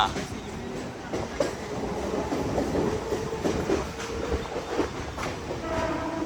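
A Mumbai suburban local train runs on its rails with steady rumbling and clattering throughout, a loud continuous sound close by, with faint voices underneath.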